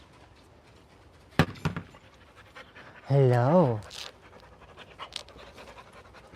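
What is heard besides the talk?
puppy panting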